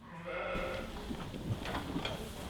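Pregnant ewes close to lambing bleat on a farm, several calls overlapping near and fairly loud above a steady background murmur, with no talk.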